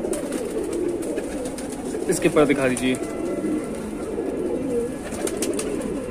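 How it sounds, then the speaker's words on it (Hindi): Pigeons kept by a fancier coo close by, a brief burst of throaty calls midway through a steady flutter and background hum, while someone speaks over them. "ये सारे कबूतर अफजाल भाई इस वक्त उड़ रहे हैं"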